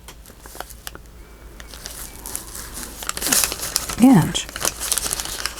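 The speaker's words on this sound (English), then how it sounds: "I'll go ahead and tear or cut some of the bottom off" Paper being torn from a board book page, a close scraping rip that swells to a louder burst near the end, with a person talking over it.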